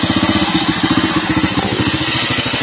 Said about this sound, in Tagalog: yan ang aking motor